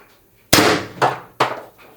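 Pistelle X-68 air pistol firing a 7.3 gram pellet at 700 psi: one sharp, loud crack followed by two more quick impacts or echoes, all close and clear with no talk.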